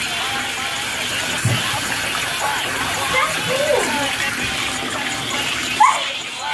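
Warm water runs and splashes into a container, a steady close rush with small gushes and sloshes while people talk over it.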